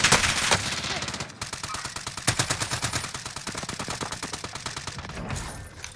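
Rapid automatic gunfire from an OTS-9 in Warzone crackles in dense bursts, sharp and loud up close, with brief pauses between volleys and faint voices underneath.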